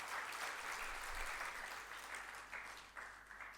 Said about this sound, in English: I think that deserves a clap for the program